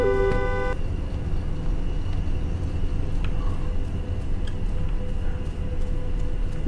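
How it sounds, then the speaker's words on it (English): A car horn honks inside the horror video game Fears to Fathom: Norwood Hitchhike, a short tonal toot at the start, then a continuous loud engine and road rumble. "I don't know why this man keep honking his horn."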